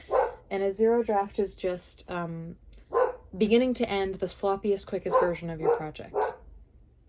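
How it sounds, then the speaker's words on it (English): A dog barks indoors in a few short yaps, mostly buried under a person talking steadily nearby. "Sorry for the dog barking."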